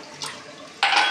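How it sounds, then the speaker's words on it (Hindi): Water is poured into a pressure cooker holding beef yakhni pulao: a short splash, a pause, then a louder sustained gush of pouring near the listener. "तो ये पानी हम डाल रहे हैं अब अपने"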